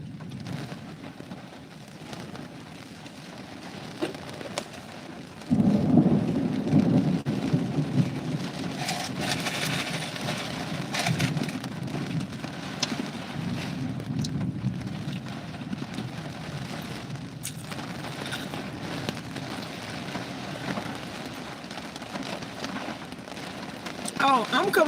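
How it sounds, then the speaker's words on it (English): Heavy rain falls in Hollywood, Florida as a steady broadband hiss with low rumbling, growing denser and louder after the first few seconds and continuing without letup; no voices are audible. "It normally doesn't rain like this, but I'm sure somebody's sending some kind of rain."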